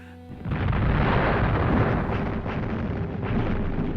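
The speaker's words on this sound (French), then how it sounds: "Il nous a explosé à la figure." A bridge blown with dynamite roars in a loud, sustained blast with rumbling and debris, heavy and low, with no talking over it.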